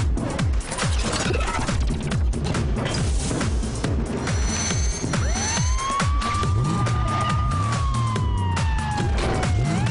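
A fire truck siren wails steadily over loud rumbling engine and driving noise, with the tone sweeping up and holding high, continuous throughout.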